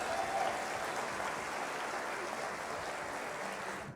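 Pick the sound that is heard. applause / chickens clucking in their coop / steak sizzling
applause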